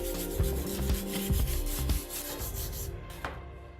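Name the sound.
cleaning up welds on a metal mirror frame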